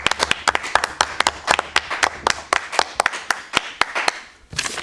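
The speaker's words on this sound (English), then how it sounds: "Give him a round of applause." Applause for Corey Santos from a small group in a room, with crisp individual claps standing out over a thinner background of clapping, steady and fairly close, ending abruptly.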